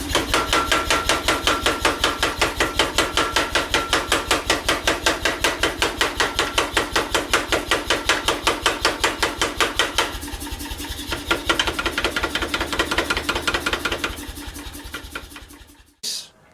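Rapid, steady hammering on hot welded steel layers being forged down for pattern welding, a fast regular train of ringing metallic blows that continues for about sixteen seconds, briefly changing tone partway through, then stops abruptly.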